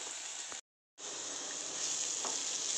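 Ivy gourd (dondakaya) pieces coated in masala fry in a pan with a steady, bright sizzle that cuts out briefly near the start, then returns and grows slightly louder.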